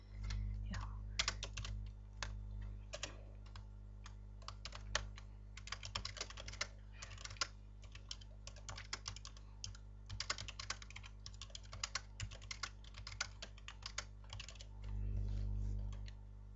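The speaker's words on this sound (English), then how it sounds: "I'm not really good at typing. I make a lot of mistakes." Someone typing on a computer keyboard, rapid irregular clicks in bursts with short pauses, close and fairly quiet over a low steady hum.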